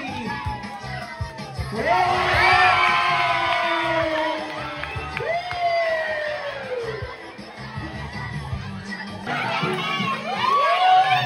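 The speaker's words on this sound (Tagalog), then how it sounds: "bigyan naman natin ng malakas ng palakpakan si Jollibee" A crowd of children shouting, cheering and clapping loudly for the Jollibee mascot at an outreach event, with excited high-pitched voices rising in bursts and a steady murmur of chatter underneath.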